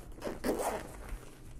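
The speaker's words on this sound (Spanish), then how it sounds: "Vamos a ver qué tal es con su cremallera" A zipper on a small, compact transport case is pulled open in one continuous rasping run lasting about half a second, close and fairly quiet, with a brief scrape before it and a quiet room after.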